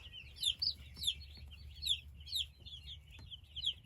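Young chicks in a crowded brooder holding over a thousand birds give repeated soft clucks and high peeping calls in short bursts, close by over a low background rumble, with no talking.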